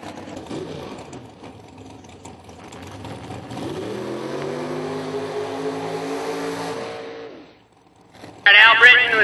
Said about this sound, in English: Al Britton with the burnout to the 300-foot mark.